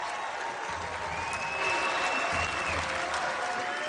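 A home crowd at a USC Trojans versus Oregon Pac-12 basketball game roars and applauds after a hard-fought victory, a sustained loud wash of cheering with scattered whistles and shouts.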